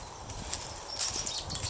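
A horse's hooves clip-clop in an open field, soft irregular thuds at a moderate distance with a faint rustle and wind behind.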